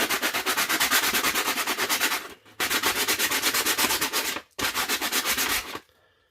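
Sanding excess paint residue off a first-generation Donnay Pro One OS racket, a loud, steady abrasive rasp in close-up that runs in three long strokes, with brief pauses between them and a quiet tail at the end.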